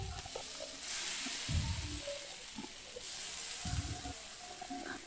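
Ginger-garlic paste and the scooped-out inner flesh of pointed gourd are stirred into a shrimp filling in a frying pan, giving a steady soft sizzle broken by repeated low scraping strokes of the spatula, with no talking.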